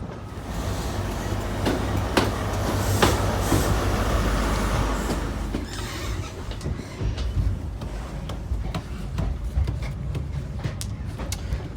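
Caledonian Sleeper train at Inverness station at night, a steady low rumble of the stationary or slowly moving carriages with sharp clanks and clicks scattered throughout, fairly close and continuous, no voices.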